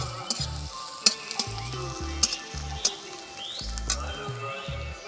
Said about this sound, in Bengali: পেঁয়াজ কুচিটা কিন্তু খুব বেশি ভাজতে হবে না, একটুখানি ভাজলেই হবে